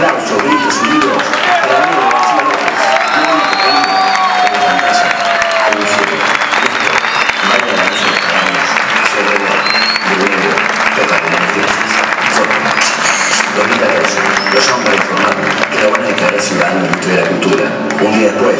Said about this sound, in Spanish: Necesito un fuerte aplauso, gritos y vivos.